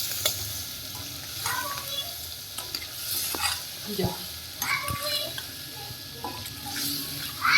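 A spoon stirs a cluster bean (guar) curry sizzling in a pan, making repeated scraping and clattering strokes over a soft frying hiss. Voices talk throughout, including a child's.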